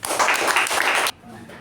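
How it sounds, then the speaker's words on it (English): An audience claps to welcome the president at a Youth Leadership Program meeting: dense, steady applause for about a second, then it cuts off sharply into a quiet room. "let us give a huge applause"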